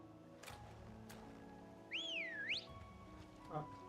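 A game character whistles to call a Chocobo mount in Final Fantasy XVI: one rising-and-falling whistle sounds clearly over steady game music, followed by a short soft thump.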